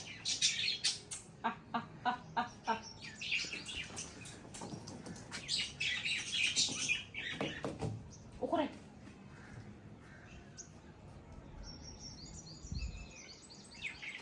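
Village chickens and roosters scratch around scattered feed grain, giving off chirps, clucks and occasional squawks at close range, mixed with background voices and movement noise.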